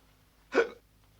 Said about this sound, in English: And what do you have, senor? Hiccups?